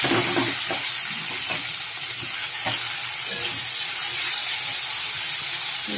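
Rounds of bitter gourd frying in hot oil after potatoes, a loud, steady sizzle and hiss running throughout with faint scraping of a spatula underneath.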